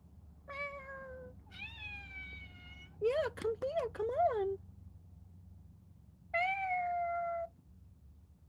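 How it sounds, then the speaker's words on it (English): A cat meows several times, drawn-out and close, with a quick run of short mews in between, while a person speaks softly nearby. "Hello, pussycat. Do you want to come say hi, meow?"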